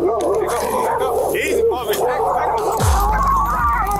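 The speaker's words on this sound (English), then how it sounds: "the homeowner's dogs sense a disturbance and launched at the police" A homeowner's dogs barking, growling and whimpering at police during a raid at the wrong house, loud agitated dog noise mixed with a voice speaking over it.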